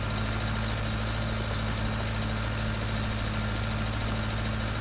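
A tractor pulling a small plough in Farming Simulator 19 drones with a steady, even engine hum throughout, constant and unbroken with a low mechanical vibration underneath.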